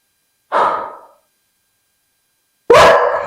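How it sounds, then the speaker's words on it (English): Harley the dog lets out two separate loud, close barks, the first a rough woof and the second sharper, with silence between them. "I can't have you barking, I'm busy"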